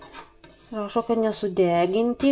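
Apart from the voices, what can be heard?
stirring sesame seeds in a dry frying pan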